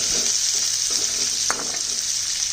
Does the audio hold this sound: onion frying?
yes